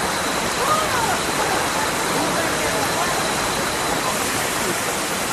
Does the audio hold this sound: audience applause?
no